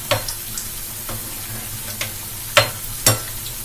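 Batter for a soft, spongy sweet fries in hot oil with a steady sizzling hiss, broken by several sharp crackling pops that stand out near and clear.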